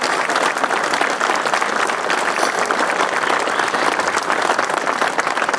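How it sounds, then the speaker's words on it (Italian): Loud, continuous applause from a crowd at the inauguration of a new Alpini group headquarters in Bavaria, a thick unbroken wash of many hands clapping. "Un applauso e suo merito a tutti."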